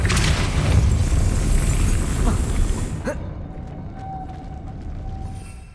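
A Depulso force-push spell in Hogwarts Legacy unleashes a loud, dense rushing burst for about three seconds, then cuts off sharply with a thud, leaving a quieter ambient tail with a faint tone.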